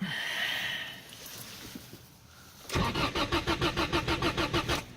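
A car engine cranks with the gas pedal pressed and then catches, its rhythmic, loud turning pulses filling the second half after a quieter stretch of low rumble.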